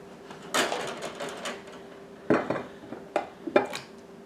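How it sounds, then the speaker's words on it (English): Celery drops into a cooking pot in a few separate bursts, each a clattering rustle with light metallic knocks against the pot, with quiet gaps between. "So I'm going to put my celery in my pot."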